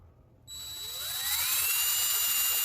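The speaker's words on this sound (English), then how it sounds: "Now drilling these, I would increase the drill speed a little bit." A small high-speed drill whines as it bores into a Hot Wheels toy car wheel, starting abruptly and rising in pitch into a steady, piercing close-up whir.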